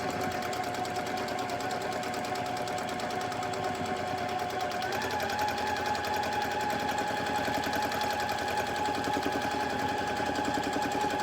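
A sewing machine runs continuously for free motion quilting on tumbling block triangle sections, its needle hammering in a fast steady rhythm with a slight shift in pitch partway through, loud and close.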